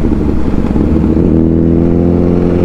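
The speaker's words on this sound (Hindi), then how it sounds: "और ये हम लोगों के साथ जा रहा है एक फायर ब्लेड।" A Honda Fireblade motorcycle rides alongside, its engine droning loudly and close with a steady throaty rumble that rises slightly in pitch, mixed with road and wind noise.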